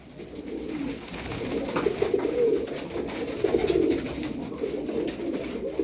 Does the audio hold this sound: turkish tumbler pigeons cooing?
yes